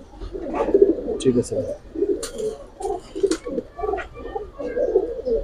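Pigeons of Giribaz, Pankhi, Silver Afsan, Bagha and Lalpaoi breeds coo repeatedly at close range, soft throaty burbles in an uneven rhythm, with someone speaking briefly among them.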